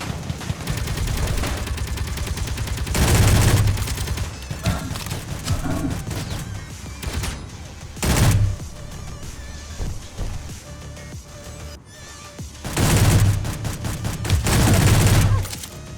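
A turret in the Space Engineers video game fires loud bursts of rapid gunfire, roughly four barrages over a constant rumbling game background, with no talk.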